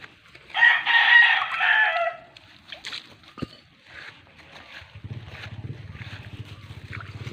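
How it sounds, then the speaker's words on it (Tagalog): A six-month-old stag, a young rooster, gives a loud, close crow lasting about two seconds, followed by quieter clucking and farmyard noise, with a low steady rumble building in the background. "Dito nakalagay yung mga 6-month-old kong stag."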